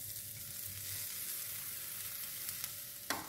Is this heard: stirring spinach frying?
yes